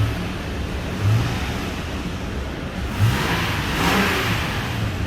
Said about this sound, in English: You can give it a little gas here and there.